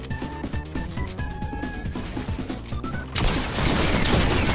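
Rapid enemy gunfire in Fortnite crackles in a dense string of sharp shots over game music, ending in a louder, heavier burst of fire.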